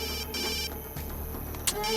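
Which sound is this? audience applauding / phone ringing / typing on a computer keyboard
phone ringing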